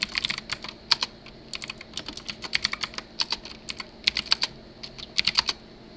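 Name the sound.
typing on a computer keyboard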